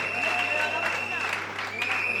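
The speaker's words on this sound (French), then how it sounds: "Je vous prie d'applaudir très fort pour lui." Guests at a customary wedding celebration clap loudly for the groom, a sustained burst of applause with voices and a high whistle or singing tone running through it.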